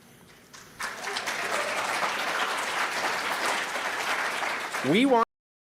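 A crowd at a socialist conference breaks into sustained applause, steady clapping filling the room for several seconds before a voice cuts in and it stops abruptly.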